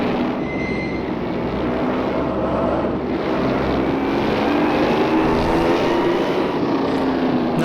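A 1957 Ferrari Testa Rossa 250 racing car in the rFactor 2 driving game drones at steady revs, a loud continuous engine roar with a faint whine above it, heard alone.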